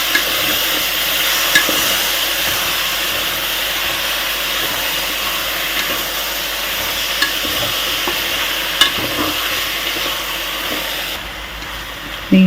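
Chicken curry being stirred as it fries in a pan, a steady sizzling hiss with scraping spoon strokes and a few sharp clinks against the pan, close and continuous with no talk.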